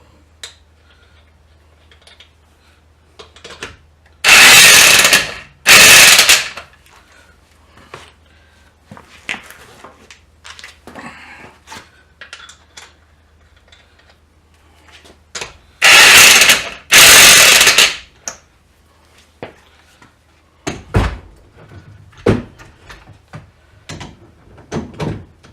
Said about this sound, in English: So I say the Chicago Electric Impact Gun works for me.